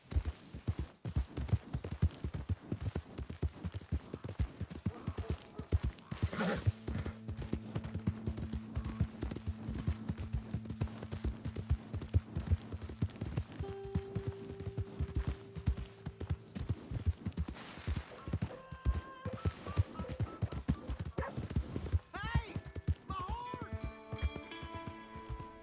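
Horse hooves clip-clopping at a steady walking pace in Red Dead Redemption 2, a continuous rhythmic patter running throughout, with voices talking over it and brief musical tones near the end.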